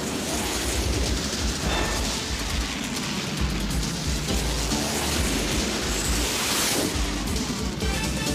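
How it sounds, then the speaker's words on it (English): Heat-seeking missile attack in a Captain N cartoon: a sustained roaring rumble with crackling bursts and two swelling blasts, loud and continuous throughout. "Fire the heat-seeking missile"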